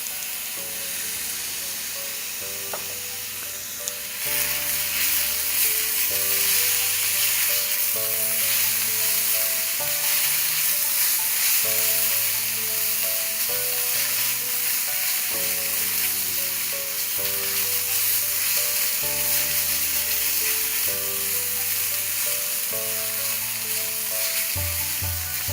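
Curry leaves and garlic-ginger paste sizzle steadily in a pan of onions for a Nepali green peas paneer, a loud continuous frying hiss running throughout beneath soft background music, with no talking.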